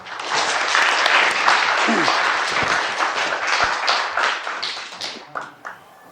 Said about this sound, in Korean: 큰 박수를 맞이해 주십시오